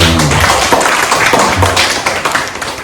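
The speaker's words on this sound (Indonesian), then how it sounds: "Tepuk tangan dulu buat Kang Rusdo." Short burst of applause from a small group at a podcast discussion, dense loud clapping that fades out within about three seconds.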